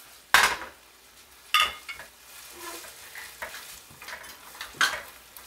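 Chicken pad krapao is stir-fried with basil thrown in, a spatula scraping and clanking against the pan in several sharp strokes over a low sizzle.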